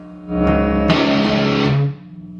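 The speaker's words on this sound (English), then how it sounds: "we're gonna hit the 6th and 5th string as a power chord" A single distorted electric guitar power chord on the 6th and 5th strings rings out loud and close, sustaining for about a second before being cut off, with no talking.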